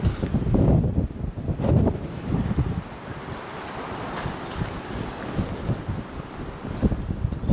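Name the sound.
wind blowing on a riverside walk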